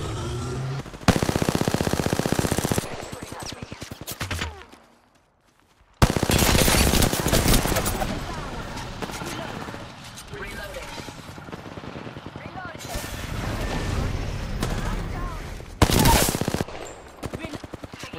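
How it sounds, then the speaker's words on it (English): Rapid automatic gunfire in long sustained bursts, loud and close, breaking off briefly into near silence before resuming in heavy dense volleys, with faint voices underneath at times. "I'm getting shot at."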